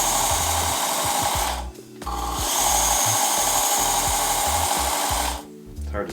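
A Work Sharp Ken Onion Edition powered knife sharpener grinds a knife blade in a continuous belt whir, with two short pauses between passes, close and loud.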